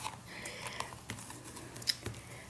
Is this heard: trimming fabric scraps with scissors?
yes